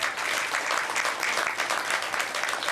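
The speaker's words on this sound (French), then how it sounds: "je vous demande de les applaudir très très fort" Audience applause at an award ceremony, a loud, dense, sustained clapping from a large crowd, even in level throughout with no talk over it.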